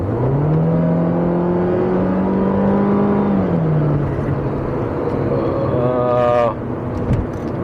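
A 2012 Mini Cooper hatch, the non-S version, accelerates hard, its engine note climbing and holding as a rising drone, then dropping through a gear change before revving up again, loud and close with no talk.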